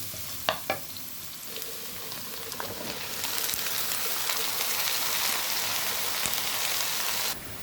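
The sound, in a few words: onion frying in oil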